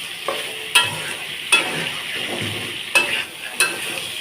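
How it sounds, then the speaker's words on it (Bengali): Fried potatoes and soya chunks are stirred into a sizzling spice paste, a steady fry broken by several sharp spatula scrapes and knocks against the pan, close and without talk. "কষানো মশলায় ভেজে রাখা আলু সয়াবিনগুলো দিয়ে বেশ কিছুক্ষণ কষিয়ে নেব"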